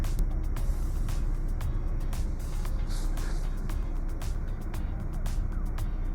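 A car moving slowly as it is being parked, its steady engine and road noise rumbling close by with faint clicks and ticks over the top.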